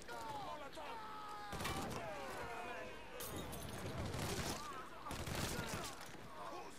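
Thompson submachine gun firing in Mafia 3, a dense, continuous clatter of rapid gunfire with repeated bursts, loud and close, mixed with voices and game noise running underneath throughout.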